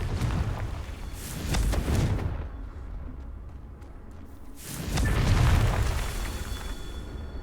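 A Confringo explosion spell cast in a Harry Potter video game, two deep booming blasts a few seconds apart, each rumbling and fading out, with no voices.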